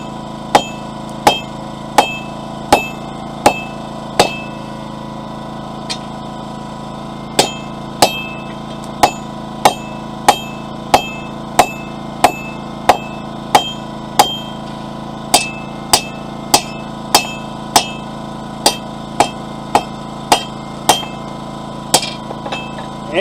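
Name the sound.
hammering steel on an anvil, forging a fire poker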